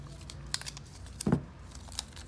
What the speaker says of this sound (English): So we're gonna go ahead and tape this off so we can spray it with the flat white.